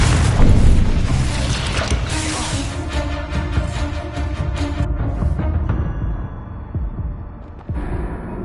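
A Confringo fire spell cast in the Hogwarts Legacy game bursts with a loud booming blast, followed by crackling, mechanical game effects and a lingering tonal rumble over steady background music.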